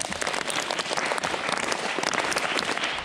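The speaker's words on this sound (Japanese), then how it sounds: "はい、拍手。" Audience applause in a school hall during a lecture, a dense steady patter of many hands clapping close by for about three seconds without a break.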